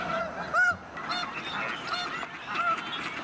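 Tundra swans calling in Sacramento Valley winter wetlands, a few honking, goose-like hoots spaced irregularly over a soft outdoor background, moderately near.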